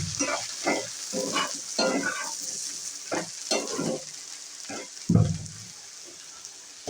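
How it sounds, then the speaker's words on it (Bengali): Potatoes frying and being stirred in a pan with onion and garlic, as spatula strokes scrape in a loose rhythm over a continuous hissing sizzle, with one heavier knock near the end. "আলুগুলো দিয়ে ভালো করে নেড়ে দিবেন।"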